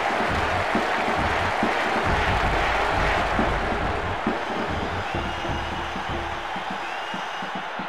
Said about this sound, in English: What a noise. Listen to the crowd.